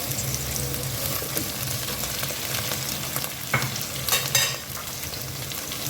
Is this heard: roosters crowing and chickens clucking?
no